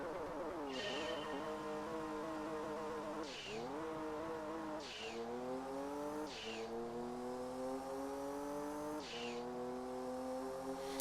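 A race car in the video game Gran Turismo 2 accelerates hard in a 0 to 1,000 test, its engine whine climbing repeatedly and dropping at each of several quick gear shifts, loud and continuous.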